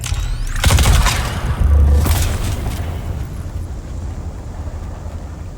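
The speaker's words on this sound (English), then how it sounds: "Throwing grenade" Grenade thrown and exploding in the video game Dune: Awakening. Two deep booming blasts land about a second apart, followed by a rumbling tail that slowly fades.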